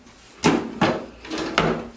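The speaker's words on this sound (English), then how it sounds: "These drawers actually do open." Bathroom drawers in an empty apartment slide open and shut, giving three sharp, close wooden knocks spaced unevenly over two seconds with quiet room tone between them.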